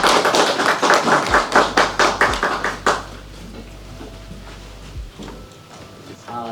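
An audience at a Korean business seminar on Hong Kong bidding applauds in a brisk, rhythmic clapping burst that fades out after a few seconds into scattered claps and room noise.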